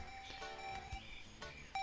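A device in the Kaptain Brawe adventure video game emits faint electronic beeps, a few short tonal pulses repeating at intervals at low volume.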